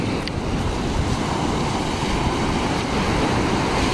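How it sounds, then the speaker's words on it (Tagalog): Strong ocean surf roars continuously during a typhoon, a loud broad wash of breaking water mixed with wind buffeting the microphone. "Laka ng alon eh."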